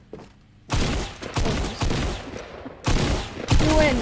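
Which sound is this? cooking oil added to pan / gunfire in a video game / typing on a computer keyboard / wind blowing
gunfire in a video game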